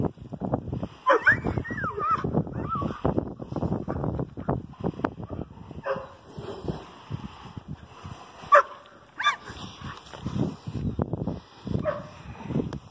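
Dogs bark, yip and whimper intermittently while a shire horse herds them outdoors, the bursts moderately close and scattered over steady background activity, with brief human voices now and then.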